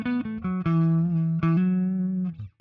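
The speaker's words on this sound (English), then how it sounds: "This is just the guitar signal going through the bass amp, but it's not octave down yet." An electric guitar runs through a bass amp model on a Line 6 Helix with no octave shift, playing a short run of clean, sustained single notes. Each note rings clearly and alone, and the last one fades out.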